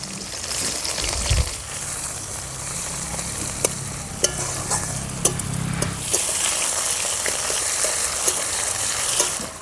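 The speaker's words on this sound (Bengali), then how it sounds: "পেঁয়াজটা হালকা করে ভেজে নিয়েছি" Chopped onion fries for village-style chicken tarka over a clay stove, a steady loud sizzle with scattered crackles and sharp pops, plus a low rumble through the first part.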